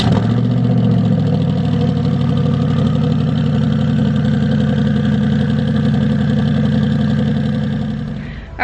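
A twin-turbocharged Chevrolet Corvette C8 runs steadily at idle, a loud, close, continuous low engine drone that holds even throughout and drops away only briefly at the very end.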